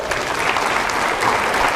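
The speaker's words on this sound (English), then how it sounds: "Clap your hands if you liked her story." An arena audience at a customer experience keynote claps in a dense, steady wash of applause, loud and continuous throughout.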